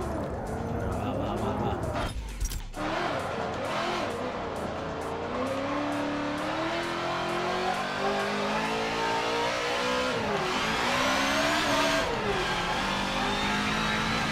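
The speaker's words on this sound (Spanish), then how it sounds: "nos ha empezado a derrapar el coche como un animal" A race car engine in the video game Top Gear Motorsport roars continuously and loudly, its pitch climbing and falling through gear changes, with tyre skidding mixed into the steady din.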